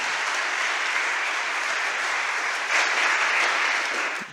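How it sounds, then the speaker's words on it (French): Audience applause at a staged mock trial event, a dense, steady wash of many hands clapping throughout, swelling slightly louder near the end before fading. "Vous pouvez les applaudir, merci."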